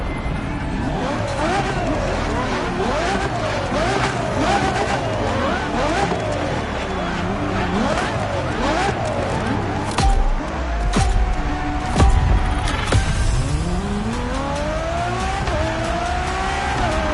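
Ferrari Enzo supercar in The Crew Motorfest, its engine revving loudly and continuously with rising and falling pitch sweeps through gear changes, tire squeal and skidding near the end, with no talk over it.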